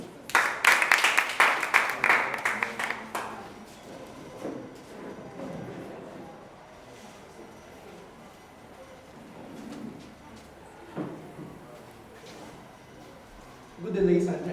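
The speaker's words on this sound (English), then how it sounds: "a round of applause, please." A school audience at an interschool debate competition breaks into loud, dense clapping for Ireti High School for about three seconds, then fades to a murmuring hall with a speaker's voice continuing over it.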